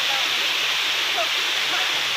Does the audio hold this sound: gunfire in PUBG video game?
no